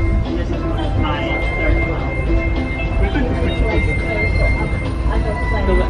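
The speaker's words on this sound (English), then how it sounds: "you need to take two trams to Serenity Bay" Tram ride on Castaway Cay toward Serenity Bay, a steady rumble of the moving vehicle with rattling and some metallic squeal, voices talking over it throughout.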